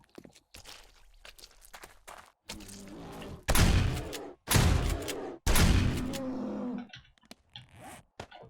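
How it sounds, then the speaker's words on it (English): Three loud, heavy shotgun blasts fire in quick succession in 7 Days To Die, each a broad booming crack with a short tail, set between quieter thuds and footstep-like clicks. "How about we use the shotgun this time?"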